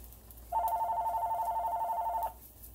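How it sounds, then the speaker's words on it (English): A telephone rings in one continuous warbling electronic burst lasting under two seconds, moderately loud against a quiet kitchen background. "Well, there goes my phone."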